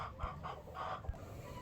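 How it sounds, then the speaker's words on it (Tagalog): A chicken clucks in a few short, nasal bursts, moderately close, with a soft low thump or two in the quiet background. "Naminaw ko lang nga sa manok"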